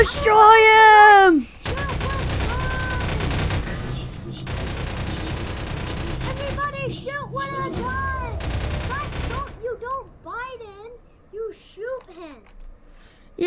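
Rapid gunfire bursts in the Five Nights at Dolly's video game, sharp clattering volleys repeating loudly, with voices shouting over and between the shots.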